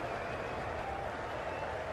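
A stadium crowd at a Guyana Amazon Warriors vs San Francisco Unicorns cricket match cheers and applauds a boundary: a steady, broad roar of clapping and voices, held at an even level throughout before cutting off abruptly.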